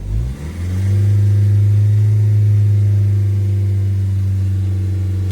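A diesel engine in a 2016 Honda Civic revs up and then holds a steady, loud, close drone with a strong low hum, running continuously with no talk.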